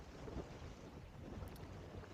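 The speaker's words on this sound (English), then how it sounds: "there's this little gust here" A steady rush of wind buffets the microphone during a gust while windsurfing on a Windsurfer LT, with a broad, continuous roar and no voices.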